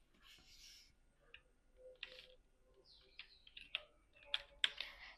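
Soft keyboard typing on a computer as a task title is entered, light irregular key clicks at close range, faint and fairly quiet with some background hiss.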